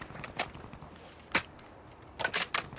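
Gunshots in the Call of Duty video game ring out as sharp, separate cracks: one, a pause, another, then a quick cluster of several shots near the end, set over a quiet background.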